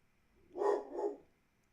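A dog gives two quick barks in a row, fairly close but not loud, against a quiet indoor background.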